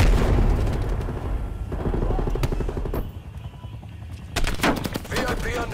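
Gunfire in the video game Call of Duty: Black Ops Cold War: rapid bursts of automatic weapon fire with booming impacts, loud and close, pausing briefly before another volley.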